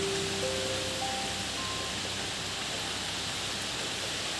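Heavy rain falls outside a home after a cyclone, a dense, steady broadband wash with no distinct drops, constant and close, with faint tonal hums briefly audible underneath.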